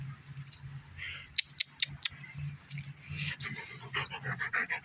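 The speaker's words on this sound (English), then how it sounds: "What a good dog." A dog breathes in quick, soft pants outdoors during a game of catch, faint and close, with a few sharp clicks and light rustling mixed in.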